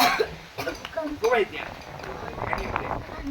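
A man coughs and clears his throat in several short, rough bursts close to the microphone during an exorcism ritual led by a village priest, with voices talking alongside.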